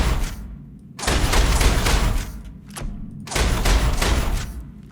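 Rifle fired inside a spaceship in the space survival game Hellion: two loud, long bursts of rapid shots, each over a second, separated by short pauses, close and heavy with booming low end.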